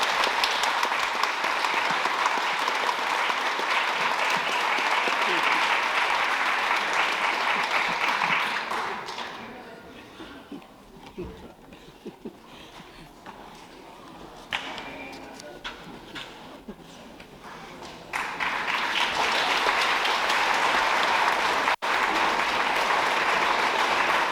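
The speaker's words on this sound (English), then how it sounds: "So give them an extra special clap, please." Audience at a Country Women's Association 100th anniversary event in Glen Innes applauds children after their performance, a loud dense burst of clapping that drops to scattered claps midway before swelling again into full applause.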